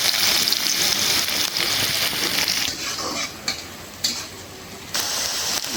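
Onions, green chillies and dried red chillies fry in hot oil in a home kitchen with a steady loud sizzle, broken by stirring clatter and small pops, with no voices.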